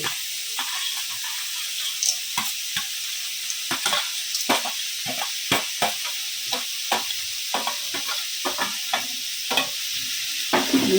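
Eggplant pieces and sun-dried lentil dumplings (bori) are stirred into a pan of cooking bathua greens and beans. A steady frying sizzle runs throughout, broken by frequent sharp clacks and scrapes of the spatula against the pan.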